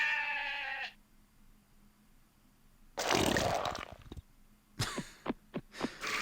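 Sheep in the video game The Neverhood let out a drawn, nasal bleat, followed after a pause by bursts of harsher, rough bleating calls, loud and close.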